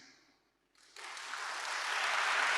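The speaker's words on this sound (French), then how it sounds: "Il mérite vraiment d'être applaudi." An audience bursts into applause, rising suddenly after a faint fading sound and then holding as a broad, steady wash of clapping to the end.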